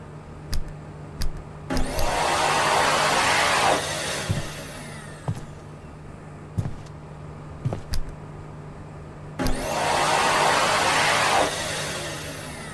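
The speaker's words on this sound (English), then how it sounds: "it sounds like a fucking demonic entity is trying to escape from the hand dryer" A loud electric hand dryer in the video game Oniros roars in two long bursts, with sharp clicks and thuds in between and a steady low hum underneath.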